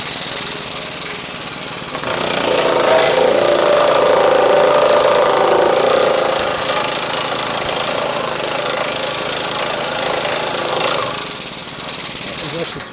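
A Woodward-Fab WFPL28 planishing hammer runs loud and steady for about thirteen seconds, a dense rapid hammering drone with the die bouncing from too little air pressure.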